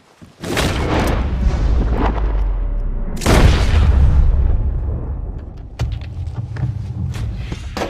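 Two heavy gunshots in Red Dead Redemption 2, each a loud booming blast with a long echoing tail that slowly fades. Smaller rustles and knocks follow after the second shot.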